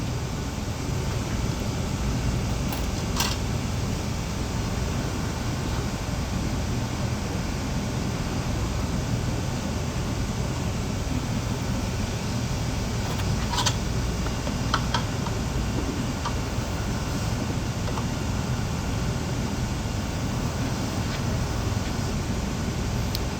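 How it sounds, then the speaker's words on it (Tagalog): A resin 3D print wash and cure machine runs in cleaner mode, giving a steady, even whirring hum throughout with a few faint clicks near the start and middle. "So itong machine na to, dalawang purpose, cleaner at saka dryer. So itong ginagawa natin ngayon, sinelect natin yung cleaner."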